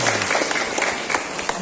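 Audience applause fills a hall at a Buddhist temple gathering, a dense, steady wash of many hands clapping close by and continuing throughout.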